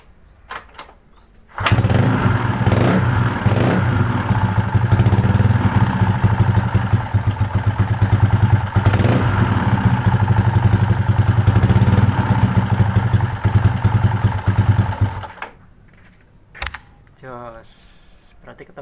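A motorcycle engine with a valve fault runs steadily at close range after being started, a loud continuous idle lasting most of the span before cutting off, followed by brief faint rustling.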